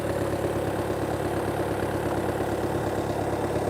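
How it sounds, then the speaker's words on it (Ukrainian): A 2020 Volkswagen Passat Variant 2.0 TDI diesel engine idles steadily at close range, a low continuous rumble from the exhaust with a faint rhythmic chug and no voices. "Такий звук, як з вихлопної труби."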